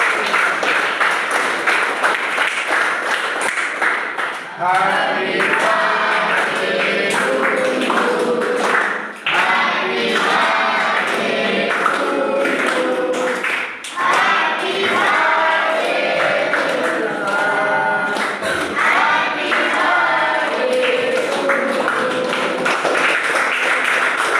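An indoor crowd applauds a birthday greeting at a children's home, with sustained, dense clapping that rises and falls over about twenty seconds with no talk over it.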